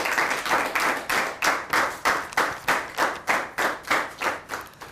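Audience at a school debate in Adamawa State applauding the winners, with rhythmic, evenly paced clapping in unison, about a dozen strong beats swelling and fading, fairly close with no voices.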